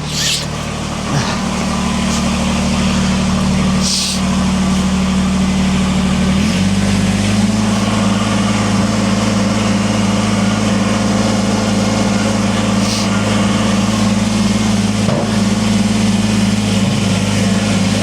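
A 2020 Kubota BX23S compact tractor engine runs steadily, loud and close, with a constant droning hum that shifts pitch slightly partway through as the revs settle.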